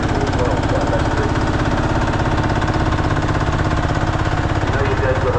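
At a Korumburra tractor pull practice day, a vintage tractor engine chugs on without pause, a loud, close, rhythmic knocking drone that holds steady under a voice talking.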